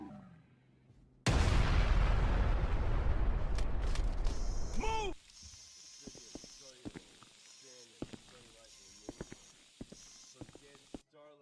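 Grenade blast in GTA roleplay gameplay: a sudden loud, roaring explosion that rumbles for about four seconds, then drops to quieter scattered clicks and brief voices.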